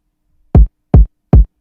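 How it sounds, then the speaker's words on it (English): A rat kick drum sample for a trap beat's hook, three heavy, booming low thumps with short decays, evenly spaced and loud, with nothing else around them. "Now for the kick I basically used the rat kick"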